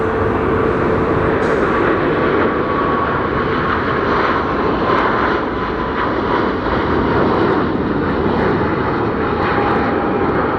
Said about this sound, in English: This one's a bit lumbering on its takeoff roll compared to the previous jet. Cathay A380 out to Hong Kong.